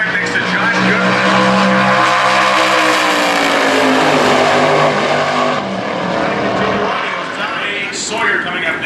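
Super Gas drag racing cars launch side by side down a racetrack at a national event, a loud sustained engine roar with shifting harmonic tones, while a commentator talks over it throughout.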